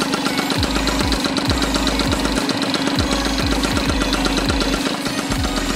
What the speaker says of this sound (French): Je vais vous montrer un petit peu comment elle démarre. Voilà, elle démarre nickel